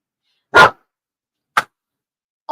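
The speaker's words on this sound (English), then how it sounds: "All the dogs in the street are barking now." Dogs bark out in a street: one loud, sharp bark, then a shorter, fainter bark about a second later, and the start of a third at the end, each separated by silence.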